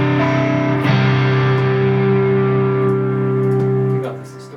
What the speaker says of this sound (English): got this distortion here.